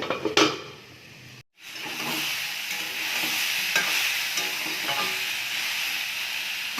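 Spices, tomatoes and green chillies sizzle steadily in a hot pan, with scraping stir sounds throughout and a brief cut to silence early on.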